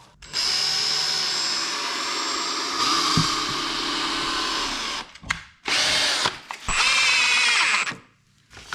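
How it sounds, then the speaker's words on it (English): A power drill drives screws into wooden side supports for an outboard motor stand, a loud, close whirring burst lasting several seconds, then two shorter runs after brief pauses. "I'm just gonna secure them with the screws now."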